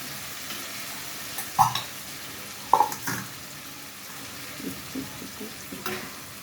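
Food simmering and bubbling in a pan on a gas stove gives a low, steady sizzle, broken by a few sharp clinks of a utensil against the pan, with no one talking.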